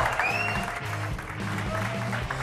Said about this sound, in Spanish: me gustaría que me dierais un aplauso